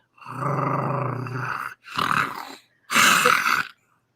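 A voice imitates a nine-tailed fox growling, with three rough, throaty growls of falling length separated by short pauses, loud and close.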